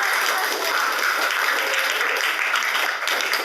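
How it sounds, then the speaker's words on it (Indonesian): Students in a geography class applaud together after a class chant, producing a steady, dense wash of clapping that holds at full loudness for several seconds without speech. "Oke, tepuk tangan."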